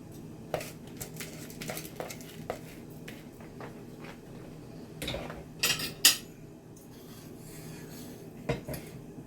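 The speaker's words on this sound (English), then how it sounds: "Just wanna scrape everything out." Washed rice being scraped from a bowl into a cooking pot for Jamaican oven-baked chicken, with scattered scraping and clinking of a utensil against metal, several sharper scrapes near the middle, close and fairly quiet.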